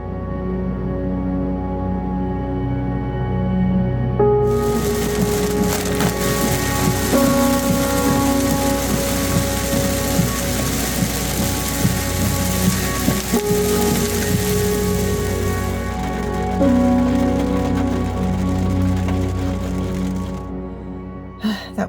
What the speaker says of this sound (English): The weather was sunny, then pouring wall of water, blinding rain, and then brightened sun again.